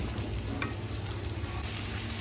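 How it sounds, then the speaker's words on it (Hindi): Okra pieces frying in ghee in a kadhai give a soft, steady sizzle with faint stirring, continuous and fairly quiet throughout, with no talking. "मैंने थोड़े से घी में फ्राई होने के लिए अब ऊपर कढ़ाई में जो है वो डाल दिया, रख दिया"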